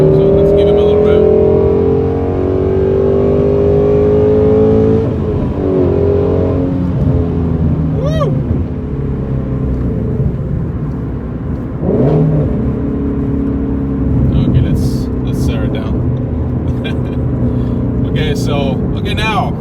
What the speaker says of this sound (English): So let's give him a little rev.